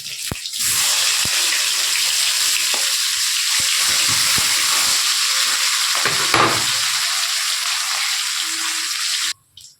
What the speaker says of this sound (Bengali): এইভাবে আমি সব মাছগুলোই ভেজে নেব।